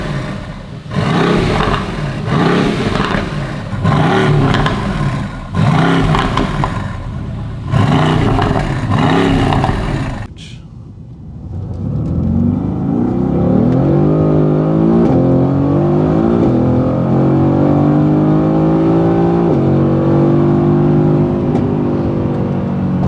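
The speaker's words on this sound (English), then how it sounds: "I'm gonna drop it, rev it outside, get the mic real close to the exhaust so you guys can hear it perfectly" A Mercedes-AMG twin-turbo V8 with an American aftermarket exhaust, miked close, barks through four sharp revs in quick succession, drops briefly quiet, then settles into a loud, rising sustained drone as it pulls away.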